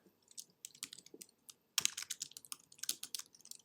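Code is typed on a computer keyboard in bursts of crisp, close key clicks, with a short pause before a faster, denser run of keystrokes, and no voices.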